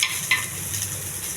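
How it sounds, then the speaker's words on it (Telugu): Garlic, dried red chillies and chopped onions frying in a pan, a soft, steady sizzle with a couple of brief stirring scrapes near the start. "ఇవన్నీ కొంచెం దోరగా వేగించాలండి, మాడకుండా వేగించుకోవాలి."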